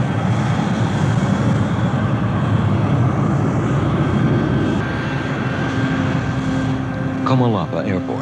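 An aircraft engine drones at Comalapa Airport, El Salvador, a loud, steady, continuous roar that holds throughout, with a brief voice-like sound near the end.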